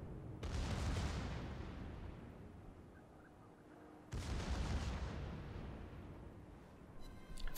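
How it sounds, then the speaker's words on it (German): Secondary guns on warships trading fire in World of Warships: two heavy, close booms about four seconds apart, each trailing off into a long rumbling decay. "Sekundären schießen gegeneinander."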